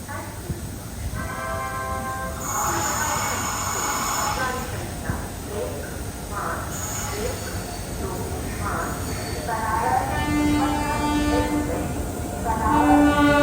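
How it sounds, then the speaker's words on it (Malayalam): A Jan Shatabdi Express on the Varanasi to Patna route pulls into a station platform with a steady, loud rumble of wheels and coaches, faint horn-like tones and voices mixed in throughout. "നമ്മുടെ ട്രെയിൻ ഇതാ പ്ലാറ്റ്ഫോം നമ്പർ 2 കടന്നു വരികയാണ്"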